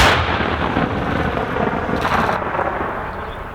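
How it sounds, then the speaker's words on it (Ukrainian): A single deep, booming artillery blast from a Ukrainian artillery battery rolls out loudly, followed by a long rumbling echo that slowly fades. "Постріл."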